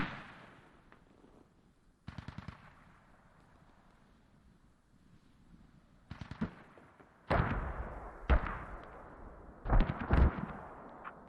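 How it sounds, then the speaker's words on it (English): Mortar and artillery fire in a military video game, heard as loud booming blasts at intervals, with a cluster of heavy impacts in the second half over a low rumbling background. "And Bernie Medved coming after these mortars possibly?"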